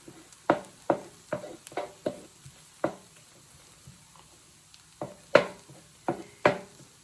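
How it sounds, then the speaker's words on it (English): Eggs being scrambled in a frying pan with rice: a series of sharp scraping and tapping strokes of a utensil against the pan, roughly a dozen irregular hits over a faint low sizzle, with no talking. "So you just cook and scramble that until the egg is all cooked."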